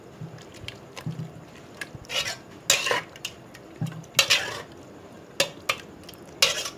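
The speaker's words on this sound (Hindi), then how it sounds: "ये देखिए, सब चीज़ों को अच्छे से मिक्स कर लिया।" Potato and dahi bhalla ingredients stirred together in a bowl, a spoon clinking and scraping against the sides in irregular bursts, close, with quiet gaps between strokes.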